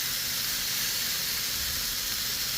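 Green chili sizzles on a Blackstone flat-top griddle beside grilled onions, a steady bright hiss of frying that holds evenly throughout.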